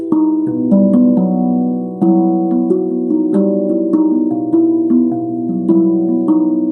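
World Songs soft mallets strike a tuned drum in a flowing melodic pattern, producing round, mellow pitched notes with gentle attacks that ring and overlap.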